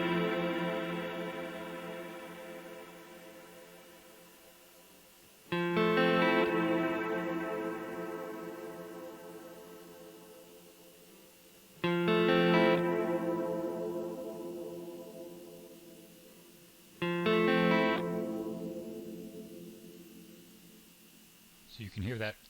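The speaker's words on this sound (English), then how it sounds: "So you can hear that damping nature within the reverb" Strymon NightSky reverb pedal with regenerative damping: three struck chords, each blooming into a long, shimmering reverb tail that slowly decays and darkens before the next, with a brief attack at the very end.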